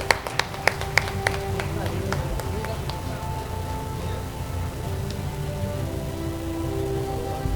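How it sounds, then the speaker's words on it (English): Applause at a stock exchange listing ceremony: a few crisp claps, then light, scattered clapping that continues softly under a low background hum, like a patter of rain. "A round of applause for sir"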